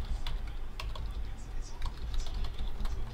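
Computer keyboard typing as text is entered into a Python QR code generator app: rapid, irregular key clicks, close and fairly loud, running steadily over a low background hum.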